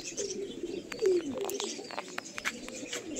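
A young female tippler pigeon coos softly nearby, a brief low murmuring call heard alone in a quiet indoor setting.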